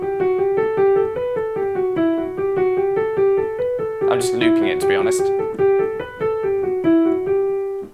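Piano playing a steady swung triplet figure in bar 9 of a beginner swing lesson, repeated notes bobbing on each beat, close and clear, with someone talking briefly over the middle.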